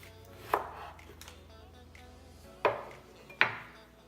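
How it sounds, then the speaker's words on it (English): A knife slicing an orange in half on a board, with three sharp thuds of the blade striking through, close and quiet over a faint hum, no talk. "take the knife, cut the orange in half."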